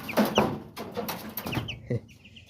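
Day-old baby chicks in a brooder chirp and peep in quick, overlapping high calls, close and fairly loud, with scratchy rustling among them and no talking.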